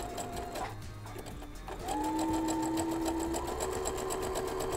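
A sewing machine fitted with a braiding foot stitches in a fast, even mechanical rattle, close and steady, picking up speed partway through with a rising motor hum.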